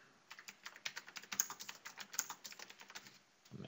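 Quick, steady typing on a computer keyboard, with many light key clicks in an even rhythm for about three seconds, close but quiet, and no talking.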